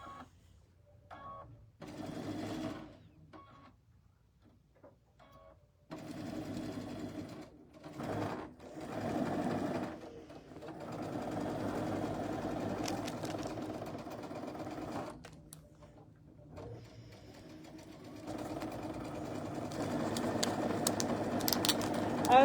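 A sewing machine stitches quilt borders in quiet bursts, short runs at first, then longer continuous whirring stretches that grow steadier toward the end.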